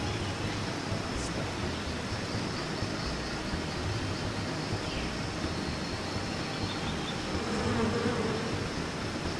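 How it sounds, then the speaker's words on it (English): Wasps buzz in a steady, dense drone inside a gas-filled grotto in the game VirtuaVerse, continuous and fairly close throughout with no voices over it. "Damn wasps."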